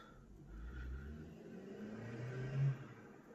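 A car passing by outside on a Sunday, a faint low engine rumble rising to a soft swell and fading, heard at a distance indoors.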